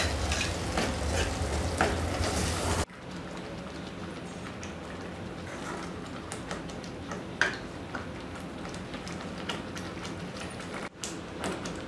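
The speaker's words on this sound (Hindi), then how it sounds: "जो हमने मसाला रेडी किया था ग्राइंड करके, उसे हम उस तेल में डाल देंगे और उसे तब तक हिलाते रहेंगे जब तक कि वो भुन ना जाए" Ground masala fries in oil in a kadhai for palak paneer, a continuous low sizzle. Scattered ticks and scrapes come from stirring, and there is a short louder stretch at the start.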